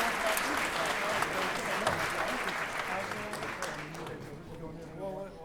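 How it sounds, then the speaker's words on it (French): Audience applause welcoming a singer at an awards evening, steady dense clapping from a large crowd filling the whole stretch and easing slightly toward the end, with a voice faintly underneath. "Applaudissez très fort."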